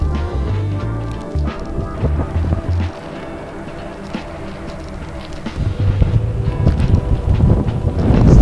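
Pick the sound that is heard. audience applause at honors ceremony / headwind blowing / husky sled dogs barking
headwind blowing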